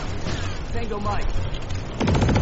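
Planetside 2 gameplay where a loud, sharp sniper shot cracks out through dense battlefield noise and rumbling effects. It is near and abrupt, coming toward the end.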